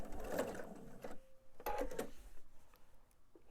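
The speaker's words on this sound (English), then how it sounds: "go ahead and do my top stitching" A sewing machine topstitches the waistband of a fabric purse in short, fairly quiet bursts of rapid whirring, stopping and restarting several times over a few seconds.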